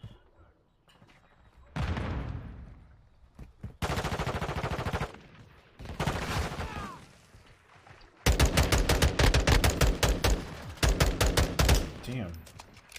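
Rapid gunfire bursts from the video game Modern Warfare II, loud automatic volleys and single shots in quick strings, growing denser and louder toward the end with brief pauses between bursts.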